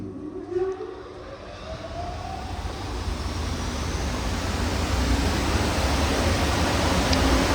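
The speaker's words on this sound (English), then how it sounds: "So the extraction's on" A strong 6,500 m³/h dust extractor with a shaker unit runs at an edge bander, giving a steady broadband roar that swells slightly and holds loud and constant throughout.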